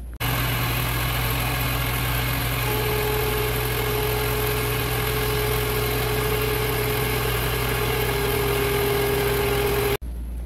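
Metal lathe turning down the nipple on a 1999 Suzuki Hayabusa speed sensor rotor to 13 millimeters: a loud, steady motor drone with a continuous machining whine that sets in partway through, then stops abruptly near the end.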